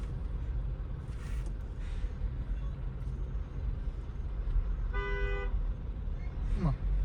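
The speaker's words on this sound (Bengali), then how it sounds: "হর্ন দেওয়ার কি আছে আমি বুঝলাম না।" A car horn toots briefly amid steady road traffic on a drive from Dhaka to Narsingdi, a short harmonic blast standing out over the constant engine and tyre rumble.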